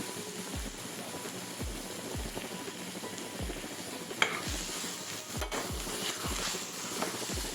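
Blood poriyal frying in a pan over a medium flame, a soft steady sizzle with faint stirring and occasional light scrapes of a utensil against the pan.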